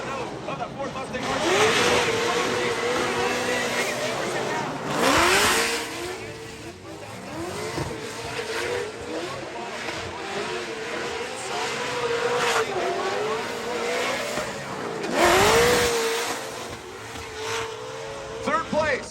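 Ford Mustang drift car competing at a Formula Drift Pro Championship round, engine wailing and revving through repeated bursts with tire squeal, loud and sustained, with an announcer talking over it and crowd noise.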